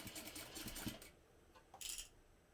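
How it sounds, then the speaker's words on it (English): A sewing machine stitches a bag lining in two short bursts: a quick rattling run of stitches, a brief pause, then a second shorter burst, all close and moderately quiet. "I'm going to sew the lining using a 5/8 inch seam allowance"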